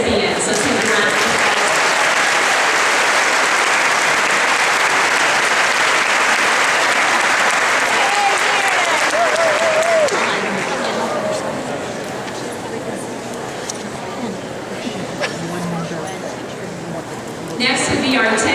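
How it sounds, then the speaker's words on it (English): A crowd claps loudly and continuously at an opening-day awards speech for employee service recipients. The clapping thins and fades out after about ten seconds, leaving quieter room noise and a brief swell at the end. "Let's take a round of applause."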